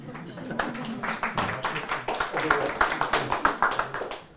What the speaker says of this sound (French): vous pouvez applaudir parce que c'est génial